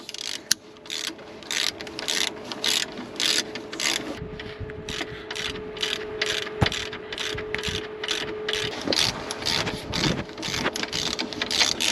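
A hand ratchet tightening alternator bolts on a Chevrolet Silverado, a steady rapid clicking run with a faint underlying hum, close and continuous without talk.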